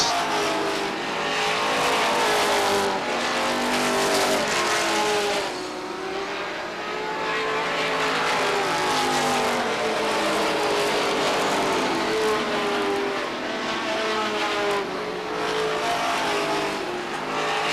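Stock cars race at Beech Ridge Motor Speedway in 1992, with the steady, roaring drone of a pack of engines circling the track. The roar swells and fades slightly as cars pass, and it continues loud throughout.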